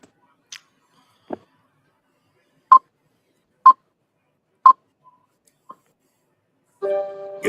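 Telephone keypad tones beep one at a time, spaced about a second apart, sharp and clear against near silence, before a louder tonal burst closes the sequence.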